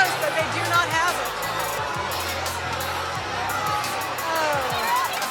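Crowd noise at the Naval Academy's Herndon Monument climb, a broad outdoor hubbub of many voices and cheers, moderately loud and steady, with a nearby voice talking over it.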